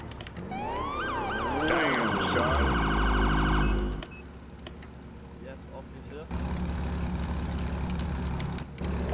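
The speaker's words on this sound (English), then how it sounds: "But I already hit my siren, so they heard me." Wailing police car siren in a video game, sweeping up and down in pitch, then cutting off abruptly, followed by background noise and low rumble.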